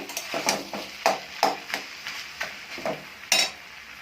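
Ivy gourd and potato curry is stirred in a wok, with about eight steady scraping strokes and a soft sizzle between them, close and moderately loud.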